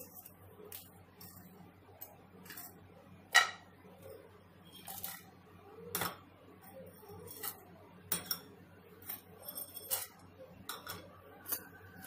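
Fennel seeds and whole spices being stirred and dry-roasted in a pan, giving scattered clinks, scrapes and light rattles of a spoon against metal at an uneven pace, fairly faint and close.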